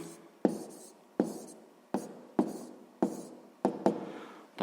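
A pen writing numbers for a sixth-grade maths exercise, seven crisp scratchy strokes at steady intervals, each a sharp tap fading into a short scrape, close and clear with no talk.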